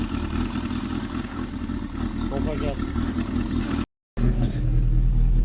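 Tofaş Doğan car fitted with a turbo, its engine running and revving up loud and close, a steady rumbling roar with a brief cut, while someone speaks over it.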